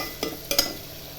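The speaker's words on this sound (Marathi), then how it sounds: "आणि चांगलं असं हलवून घेते" A spoon stirs spiced tomato masala with turmeric, coriander powder, salt and biryani masala in a pan, giving a few brief scraping strokes over a faint, low sizzle, close and quiet.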